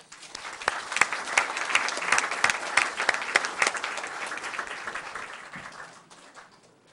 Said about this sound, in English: One more round of applause for you.